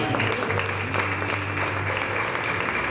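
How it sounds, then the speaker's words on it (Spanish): A church congregation clapping during a Spanish-language sermon, a brief burst of rapid, fairly close applause with a low steady hum underneath. "Aplaude al Rey."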